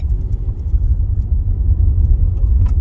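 A manual car drives at low speed in a 30 zone, its engine giving a steady low rumble with slight surges as it accelerates through the gears, heard from inside without talking.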